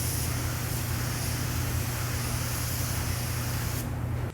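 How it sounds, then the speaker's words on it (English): A spray gun steadily hisses automotive paint onto a spray-out test card for color matching in a body shop, one loud continuous burst that cuts off near the end. "do a spray out, check the color, make sure it looks good"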